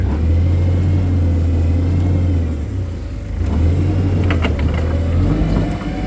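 A Hyster H1.6FT gas forklift with a Mazda 2.2-litre engine runs close by, a steady low rumbling idle that dips briefly midway and then settles back, with no voices over it.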